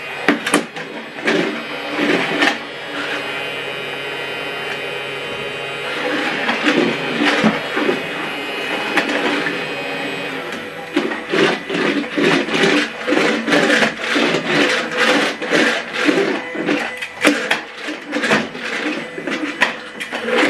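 A Casdon Dyson Ball toy vacuum cleaner runs with suction, giving a continuous whirring motor drone broken by a rapid series of clattering, rattling bursts, loud and close.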